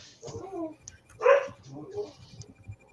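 A dog barks near an open microphone during a team call, a few close sharp barks and whimpers mixed with people talking.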